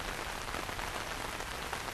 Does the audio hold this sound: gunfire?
no